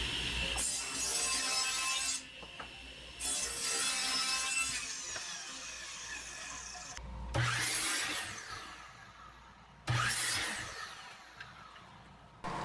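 Wooden spacer stock 2.25 inches wide being cut on a saw, in several passes with steady whining cuts broken by short pauses, each new pass starting with a sharp low thump, loud and close.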